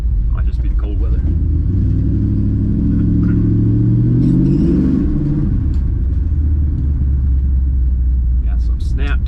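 A Mopar car with an MSD ignition pulls away on a test drive, its engine rumbling loud and close and rising then easing in revs, with brief talk over it.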